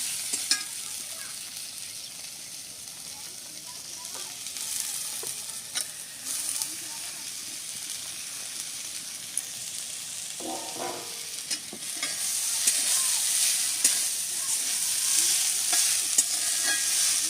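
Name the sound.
stirring ridge gourd with turmeric in a pan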